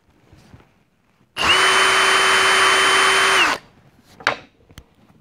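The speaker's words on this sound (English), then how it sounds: "drill down nice and straight through all four of these holes" A power drill bores holes through a guitar neck, its motor whining up sharply and running at a steady, loud pitch for about two seconds before spinning down, with quiet handling noises around it.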